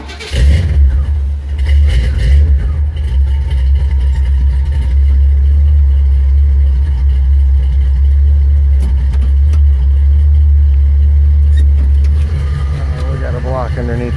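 A 1972 Chevrolet Monte Carlo A-body engine cranks, catches and runs, settling into a loud, low, steady idle with a brief rev near the end, close to the car while people talk.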